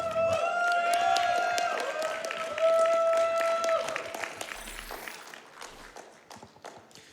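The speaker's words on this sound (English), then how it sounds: "Keep that applause going," An audience at Awesome Games Done Quick 2019 claps and cheers steadily for several seconds, then the applause thins out into scattered claps, with bright electronic tones sounding over it early on.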